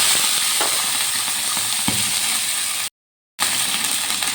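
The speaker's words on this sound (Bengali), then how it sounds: "আর দিয়ে দিলাম কারি পাতা এবার এগুলো একটু ভালো করে ভেজে নেব" Curry leaves frying in a pan with mustard seeds and green chillies: a continuous bright sizzle with faint stirring knocks, broken by a short silent gap, no talk.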